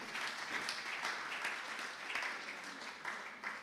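A church congregation applauds steadily during a sermon, a dense continuous clapping from many hands that fills the room without a break.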